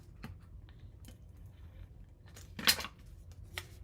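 Scissors cutting a piece of paper for a handmade stamped card, faint close snips and light paper rustles, with one louder cut near the end.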